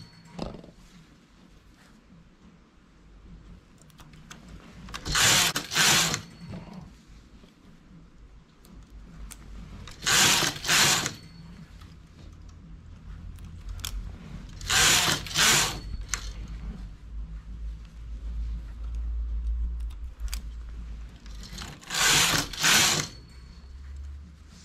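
A knitting machine works wide cables made from strips, its carriage passing four times in bursts of close, rattling, hissy clatter roughly every five seconds over a steady low hum, with no talking.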